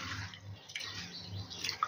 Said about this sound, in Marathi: स्वच्छ डाळ निवडून आपण ते आता धुवून घेणार आहोत.